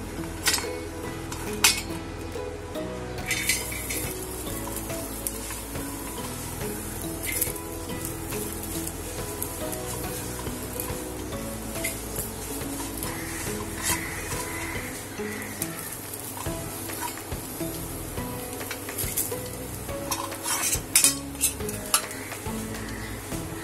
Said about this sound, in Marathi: आपण खोबरं परतून घेऊ।